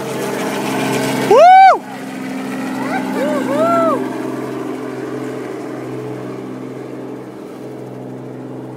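A helicopter flies low over a neighbouring yard, its steady engine and rotor drone running throughout while a voice briefly whoops and others talk underneath.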